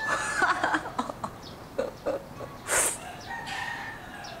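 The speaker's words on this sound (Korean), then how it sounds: "아주 이놈의 닭들은 24시간 울어." Farm roosters crowing, with several drawn-out cock-a-doodle-doo calls and some clucking from a flock, one call loud and close, others further off in the background.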